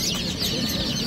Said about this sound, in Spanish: Y aquí tenéis pollitos pequeños.